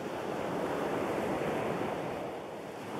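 Winter ocean surf rushes in a continuous, steady wash with some wind noise on the microphone. It sounds moderately distant and fairly faint, with no voices.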